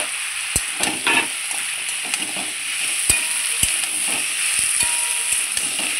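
Mixed vegetables for a Bengali-style vegetarian mix fry in a pan with a steady, close sizzle, broken by sharp clicks and taps of a spatula stirring against the pan.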